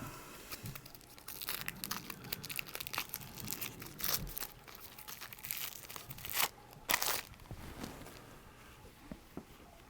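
Decks of cards pulled from plastic and paper packaging for a Prelude to Rebellion unboxing, close crinkling, tearing and crunching in irregular bursts, alone without talk.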